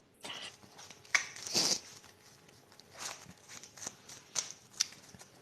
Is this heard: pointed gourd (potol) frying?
no